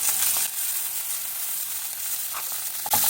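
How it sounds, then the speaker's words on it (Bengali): Onion paste with two bay leaves frying in hot oil for a prawn dopeyaja, a close, even sizzle that stays constant and ends with a brief clatter, with no voices. "পেঁয়াজ বাটাটা একটু ভাজা হয়ে গেলে অন্য মশলা দেবো"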